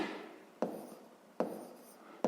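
Pen or pencil writing down a sixth-grade math solution, three faint strokes close to the mic in a quiet room, each a short scratch fading out.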